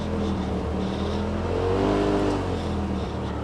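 A 2018 Polaris RZR XP Turbo side-by-side fitted with a Shock Therapy Level 4 spring kit drives along, its engine a close, continuous droning hum that rises and swells in pitch mid-way as the throttle is worked, with no talking.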